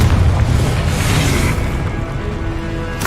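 A Confringo fire spell explodes in the Hogwarts Legacy video game: a loud, booming blast with a deep low rumble that fills the moment and then slowly fades away.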